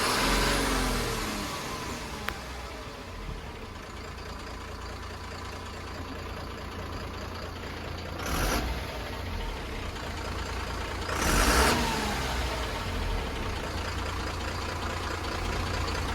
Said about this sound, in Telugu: 24 వాల్వ్స్ కమిన్స్ ఇంజన్ ఇది.